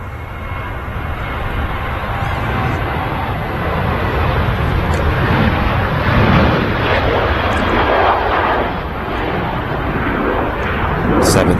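A 16-year-old Ryanair Boeing 737-800 departing Manchester Airport for Paris, its jet engines producing a loud, steady, broadband roar that swells and holds throughout.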